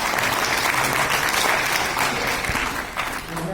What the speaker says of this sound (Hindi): स्वामी जी के लिए जोरदार तालियां